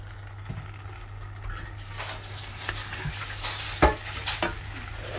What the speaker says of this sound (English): Stir well again.